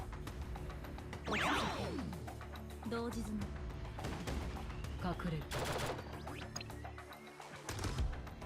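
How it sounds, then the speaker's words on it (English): Gunfire in the video game Blue Archive, with scattered sharp shots and bursts over busy game sound effects and music, and talk running through much of it. "Half the gunshots don't have sound effects."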